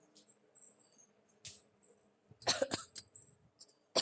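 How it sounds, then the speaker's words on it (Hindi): A person with a sore throat coughs in a short, loud burst of several harsh coughs, preceded by quiet breathy rustles and small clicks, with no talking. "तो बीच बीच में थोड़ी थोड़ी खांसी आती ही रहेगी।"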